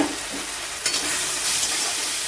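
Spice masala of cumin, chili, turmeric and garam masala frying in a pan for a fish curry, a close, steady sizzle with stirring scrapes and a brief louder burst partway through.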